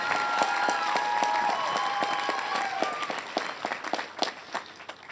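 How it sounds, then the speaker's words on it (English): An audience at a 2022 LMU undergraduate commencement ceremony applauds in a full, sustained burst of clapping with whistles and cheers rising through it before it gradually tapers. "You can clap."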